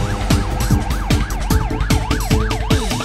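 A cartoon police car siren from an animated children's song wails in rapid repeating up-down sweeps, loud and close, over a thumping musical backing beat.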